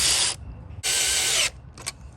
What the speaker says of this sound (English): Put on 3/8 washers and lock nuts and tighten.